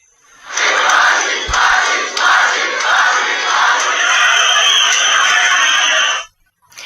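Loud protest crowd of demonstrators storming a railway station in Badlapur, outside Mumbai, India, shouting and roaring continuously for about six seconds before cutting off abruptly.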